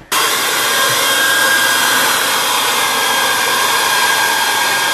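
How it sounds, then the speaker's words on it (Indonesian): Hair dryer running steadily at close range, blowing on thick ice built up on the inside of a window during a very cold Canadian winter, a loud continuous whir that stays unbroken throughout. "What we need to do, kita perlu hair dryer."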